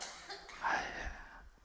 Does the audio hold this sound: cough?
yes